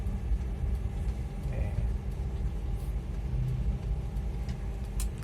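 Manual car driving through a right turn during a lesson, a low steady cabin rumble of engine and road noise from inside the car, with faint talk present.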